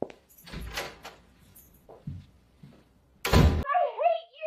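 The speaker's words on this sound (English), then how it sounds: "Then I closed the door, tired of their drama." A door is shut with a loud thud near the end, cutting off a tense argument; people talk before it, and a short high vocal sound follows the slam.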